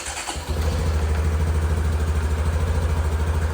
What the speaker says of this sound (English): here is a clip of what the stock exhaust sounds like